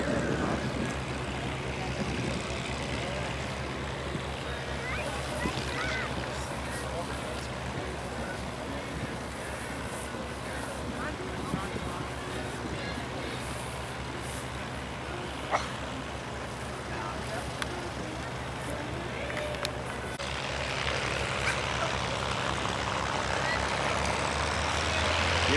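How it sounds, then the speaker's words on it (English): Rolls-Royce Merlin piston aircraft engines roar at full power in a dense, continuous drone that swells toward the end, with faint voices underneath. "what these Rolls-Royce Merlin engines sound like when they're galloping at full speed"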